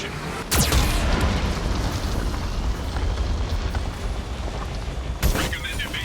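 Geth cannon blasts in the video game Mass Effect 2: two sharp, loud explosive booms about five seconds apart, with a heavy rumbling roar sustained between them.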